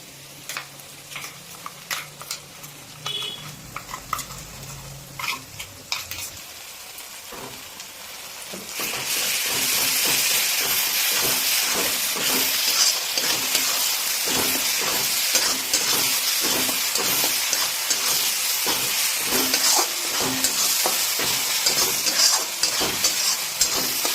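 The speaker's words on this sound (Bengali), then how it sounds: "আর এই সময়তে আমরা এতে মিশিয়ে দেবো আদা রসুন আর কাঁচা লঙ্কায় এই কাঁচা যে পেস্টটা সেইটা।" Chicken frying in a hot pan as raw ginger, garlic and green chilli paste goes in, a quieter crackle with scraping at first, then a loud, steady sizzle with hiss and steam that holds to the end.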